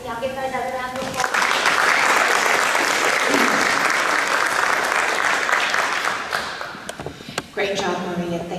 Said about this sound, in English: Y'all give her another round of applause.